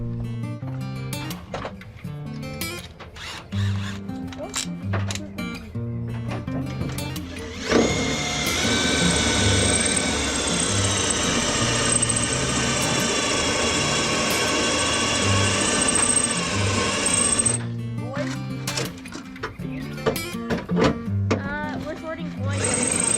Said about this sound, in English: Alright, let me get a drill. We'll get that mechanical out of there.